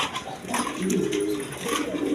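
Pigeons coo in low, soft rolling calls close at hand, a short continuous stretch with faint background noise and no voices.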